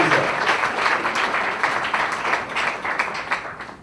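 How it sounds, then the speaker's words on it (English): A crowd at an education launch event gives sustained applause, a thick wash of clapping that starts strong and gradually thins and softens over a few seconds, with no one speaking over it. "Let's have a huge round of applause once again for Dr."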